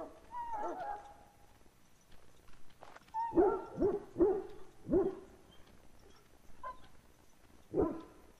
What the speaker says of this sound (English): Now I can treat the dog properly, poor fella